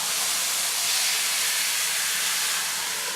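Steady broadband hissing of water added to a hot pan, steaming loud and continuous throughout with no voices.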